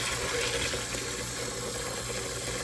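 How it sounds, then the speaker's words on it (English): Cold well water runs from a tap into a pot of dry pinto beans, a steady continuous rushing splash that fills the whole clip with no talking. "So just fill them up with the tap here"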